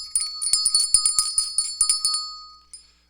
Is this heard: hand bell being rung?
yes